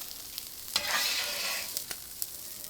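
A Mexican street corn mixture is stirred in a hot pan, with a soft hiss and sizzle that swells into a stronger scraping rush in the middle and then fades, marked by a few light clicks.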